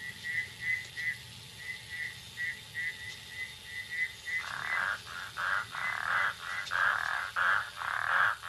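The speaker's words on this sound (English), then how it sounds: "About 20 different kinds of frogs will breed at night in this pond." Frogs of about 20 kinds calling at a breeding pond in an African night chorus, rapid pulsed croaks repeating steadily, growing louder and fuller halfway through over a low constant hum.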